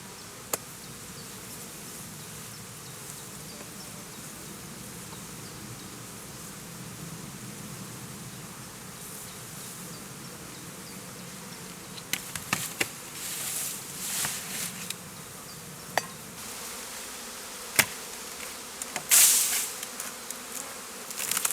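Honey bees buzz around their hive during transport to heather on Hiiumaa, a steady close drone with scattered louder passes, light knocks and clicks near the end.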